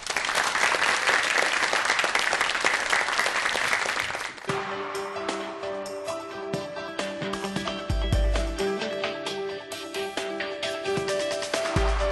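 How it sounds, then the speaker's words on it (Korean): An audience applauds before a jewellery designer's lecture, a full burst of clapping for about four seconds that then tapers off under music and scattered claps. "박수 한번 주세요."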